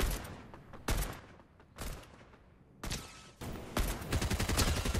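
Gunfire in the Fortnite video game: several short, sharp bursts of shots separated by brief pauses, loud and close, ending in a denser volley.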